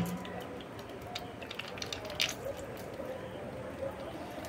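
A honeycomb is broken apart and squeezed by hand, giving faint, continuous wet squishing and crackling close by.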